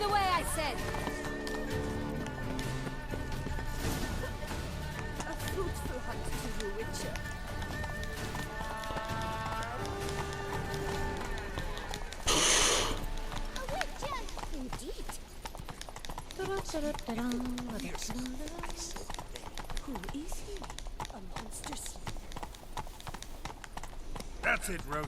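Roach, Geralt's horse in The Witcher 3, gallops with a steady clip-clop of hooves that runs through the scene under game music and spoken dialogue, with a brief whinny-like burst midway.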